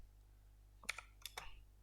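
Typing on a computer keyboard while entering database field names in phpMyAdmin, heard as a short burst of quiet, close key clicks in two small clusters over a low steady hum, with no voices.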